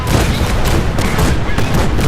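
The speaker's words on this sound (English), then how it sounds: "Soldier, man the cannons. Kill them only as a last resort. A few warning shots, usually the cannons." Cannon warning shots fired from a ship in a naval game scene: a loud, dense rapid volley of booming blasts, continuous and close.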